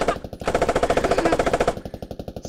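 An M2A3 vehicle's machine gun firing in the military game Squad, a loud close, rapid rhythmic stream of heavy shots holding steady for about two seconds, with no talk over it.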